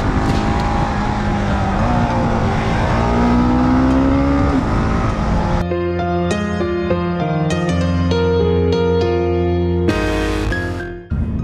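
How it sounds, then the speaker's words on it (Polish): A Husqvarna Svartpilen 701 single-cylinder motorcycle with 75 horsepower revs hard, its pitch sweeping up and down, then settles into a loud, steady rumble with sharp blips of throttle, close by and alone. "jeden cylinder, 75 koni i nazwa, która przywołuje na myśl od razu meble z Ikei. Nowa Husqvarna Swartpilen 701."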